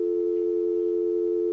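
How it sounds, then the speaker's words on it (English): A telephone hang-up effect ends in a steady dial tone, one loud unbroken electronic hum held throughout, with no voices. "every hang up effect had the dial tone at the end"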